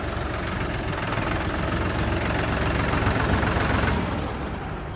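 A small Solis 50 mini tractor engine runs steadily and evenly throughout, a continuous rumbling idle with no voices.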